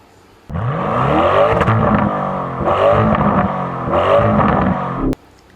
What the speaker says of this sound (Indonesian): Gas mesin V8-mu.